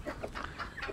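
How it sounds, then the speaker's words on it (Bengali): A rooster among layer hens on a poultry farm gives several short, close clucks in quick succession over a soft background of other fowl. "এই মোরগ।"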